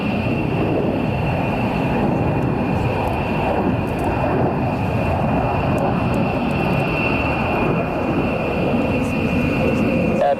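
A Lockheed Mark 1 aircraft holds position before a display, its engine producing a loud, continuous close roar with a steady high whine throughout.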